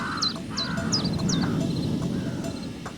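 Crow-like caws repeat four times in quick succession, then fade, over a steady outdoor bed of wind and rustling, recorded outside as ambience for a game.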